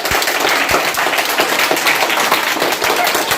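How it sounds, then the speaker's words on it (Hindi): Children and adults in a school readiness activity clapping together, a loud, continuous burst of hand claps with sharper individual smacks standing out, and voices mixed in beneath the applause. "एक बार जोरदार तालियां फिर से हो जाए।"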